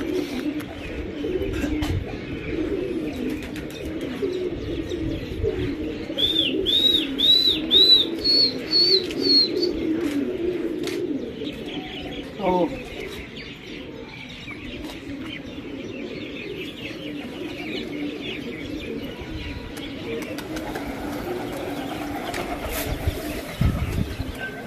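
Sherazi pigeons coo in a rolling, repeated pattern, joined by brief chirps. A constant murmur of traffic and outdoor noise runs underneath throughout.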